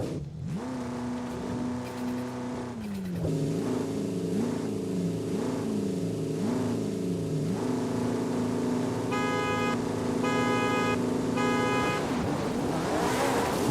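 In the Forza Horizon 5 video game, a Ferrari 430 V8 races a 4-cylinder car, with a loud engine revving through repeated quick gear shifts, then a sustained high-rpm drone and a chattering rhythmic effect over it.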